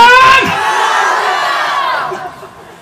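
A mosque congregation roars the takbir together in one long, loud collective shout that swells and then fades over a few seconds.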